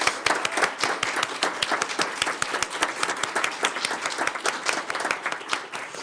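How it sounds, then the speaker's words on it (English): An audience at a board of education meeting claps steadily, a moderate-sized crowd giving rapid, dense applause that stays fairly even from start to finish without speech. "Let's give them another round of applause."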